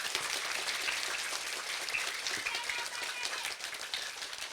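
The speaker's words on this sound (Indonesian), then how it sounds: "Saya boleh minta tepuk tangannya untuk DTA Hidayatul Mubtadin." Audience applause for a religious school group at an Islamic gathering in Cirebon, rapid clapping from a crowd, steady and fairly soft, sounding like patter, with some voices under it.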